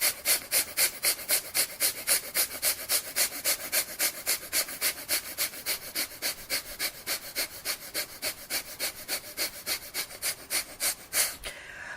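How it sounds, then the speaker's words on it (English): Rapid, deep rhythmic breathing in the breath-of-fire style, about forty forceful exhale-inhale pulses at a steady fast pace over twelve seconds, close and breathy with no talking. "do the breath of fire rapidly and deeply 50 times"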